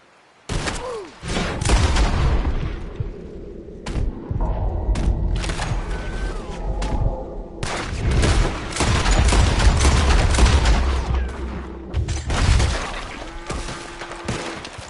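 Gunfire shootout in the Western video game Red Dead Redemption 2, with loud, dense bursts of shots and booming blasts coming in rapid irregular volleys almost nonstop, briefly easing before erupting again.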